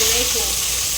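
Tomato dropped into a sizzling dal tempering, a steady loud hiss of hot oil filling the whole moment with faint tonal hints of a voice in the background.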